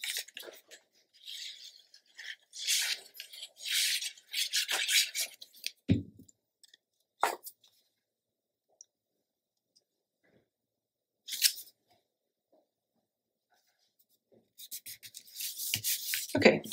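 Paper strip being trimmed to fit on a scrapbook page, close and quiet: several short bursts of crisp snipping and rustling separated by silences, with soft knocks and handling noises between cuts.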